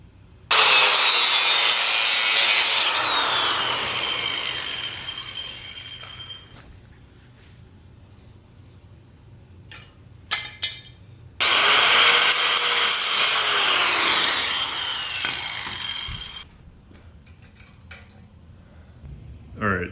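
A saw cuts metal tubing for a custom three-wheeler build in two long, loud, close bursts of harsh grinding rasp, separated by quieter stretches with a few clinks and clatters.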